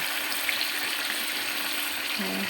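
Chicken feet and liver fry in spiced masala that has released its oil, giving a soft, steady sizzle close by with no talk.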